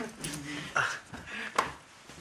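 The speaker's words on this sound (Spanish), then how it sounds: "Ese es el perro que le regalaste a Katia" A dog gives a few short whimpering yips against a busy indoor room with background voices.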